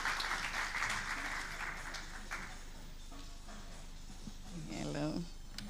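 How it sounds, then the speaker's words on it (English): Clapping from an audience at a gender equity and technology event, strongest at the start and then thinning, with a voice speaking near the end as the applause fades. "A more intentional round of applause for Ms. Grace Munisi."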